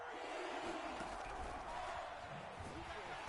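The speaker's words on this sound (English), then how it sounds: "That just means this crowd's going to get even louder." Stadium crowd noise from the Madden 22 football video game, a dense continuous roar filling the background with no clear peaks, steady and moderately loud throughout.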